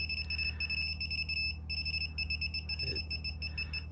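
Electrical outlet tester beeping near a wall outlet: a faint, rapid, steady high-pitched beep pattern with short gaps, quiet and close, with a brief soft noise partway through.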